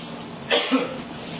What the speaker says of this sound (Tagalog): Inuubo ko.